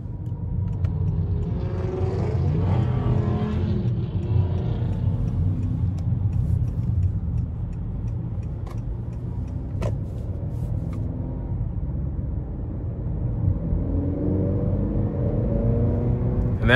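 Interior of a 2021 Honda Accord 2.0T Touring with its 2.0-liter turbocharged engine, a steady low drone and rumble of engine and road noise lasting throughout, swelling slightly as it pulls.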